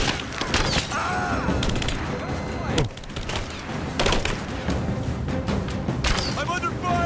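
Enemy gunfire rattles through a Rise of the Tomb Raider battle, loud overlapping volleys and booming impacts in dense bursts, with a brief lull midway before the shooting picks back up.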